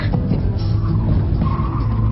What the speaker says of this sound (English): deliberately throw the weight to send it sideways, and then control the slide with opposite lock